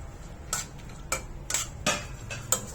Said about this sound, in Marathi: तूप गरम झाल्यावर तुपामध्ये आपण हे ड्रायफ्रुट्स घेतले ते परतून घ्यायचे